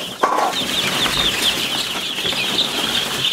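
Young Cochin chicks on a poultry farm chirp in a steady flurry of high, thin peeps, with soft clucking and rustling around them at close range.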